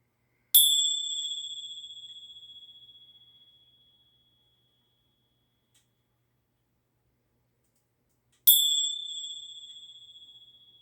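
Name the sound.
bells ringing to clear old energy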